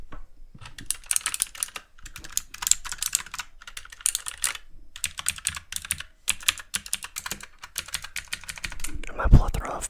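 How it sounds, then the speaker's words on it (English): Typing on a computer keyboard in a PC setup, close rapid clicking keystrokes in bursts with short pauses, interrupted by a louder thump near the end. "here's the keyboard."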